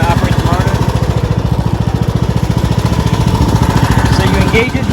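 A Craftsman T2600 lawn tractor engine runs with its mower deck, a loud, close, steady chugging thrum with a fast regular pulse that carries through the whole stretch without letting up.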